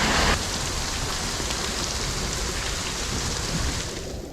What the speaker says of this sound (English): I'll just stay here and wait out the rain for a minute.